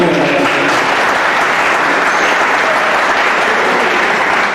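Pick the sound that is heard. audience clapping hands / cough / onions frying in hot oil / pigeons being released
audience clapping hands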